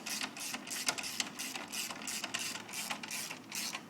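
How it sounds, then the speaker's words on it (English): A socket wrench tightens a nylon stop nut, giving a quiet, even run of rapid ratcheting clicks in a steady rhythm. "Wrench on top, socket wrench on bottom,"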